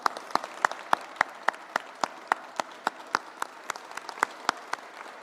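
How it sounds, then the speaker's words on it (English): A room of officials and guests at a bill-signing event gives a round of applause, steady scattered handclaps at moderate distance with no talking over them. "They need a round of applause."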